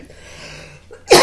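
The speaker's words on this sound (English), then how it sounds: "I'm not going to cover my mouth when I cough." A single short, sharp cough bursts out at the very end after near silence, loud and close to the mic, uncovered, indoors at home.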